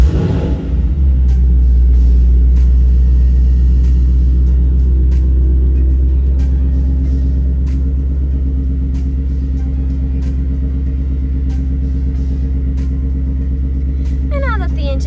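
A 2019 Ford Mustang GT with a push-button start and manual gearbox turns over, then settles into a loud, steady, deep rumbling idle. The rumble runs close and continuous to the end, with a faint ticking layered on top.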